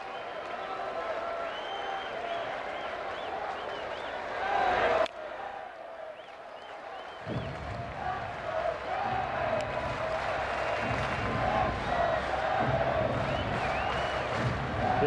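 Big ballpark crowd of about 36,000 at a Cubs versus Braves baseball game in Atlanta cheers and applauds, a sustained roar that breaks off abruptly partway through, then swells back as a broad murmuring crowd.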